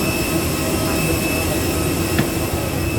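Inside the cabin of an Airbus A320 airliner, the engines give a loud, steady droning hum with a faint high whine, one brief click partway through, and no talking.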